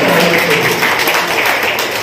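Audience at a religious lecture clapping loudly and continuously, a dense close wash of applause filling the whole moment without a break.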